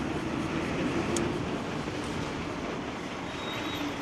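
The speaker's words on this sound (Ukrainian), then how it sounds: "І ось трамвайчик." A tram rolls past on a street in Odesa, near the Arcadia area: a steady, loud rumble of wheels on rail with a faint squeal, continuous for the whole stretch with no talking.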